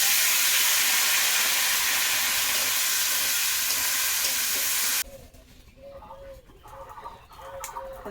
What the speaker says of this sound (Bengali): আলু আর লঙ্কা আগে ভেজে নেবো